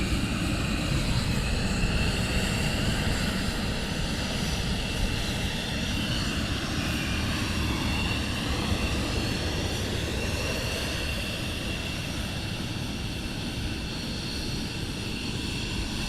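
Military jet taxiing at RAF Lakenheath during surge operations, a continuous loud engine roar and whine filling the whole stretch, heard from outside with no talking.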